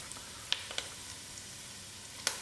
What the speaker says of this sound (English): Just for a few seconds, I'll allow the masala to cook out.